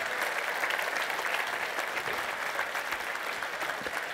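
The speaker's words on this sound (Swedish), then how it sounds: "Ja, ja de är värda en applåd." Audience applause for teachers at a vocational skills championship award ceremony in an indoor hall, a steady dense wash of many hands clapping at even volume throughout, with no talk over it.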